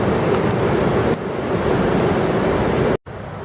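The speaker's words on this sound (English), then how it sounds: "rainfall in Harrisonburg, Virginia has turned Black's Run and Newman Lake on JMU campus into a roaring river" Black's Run and Newman Lake in Harrisonburg, Virginia rush as a roaring river after Tropical Storm Debby's rainfall, a loud, broad, unbroken wash of turbulent water, briefly cut off near the end.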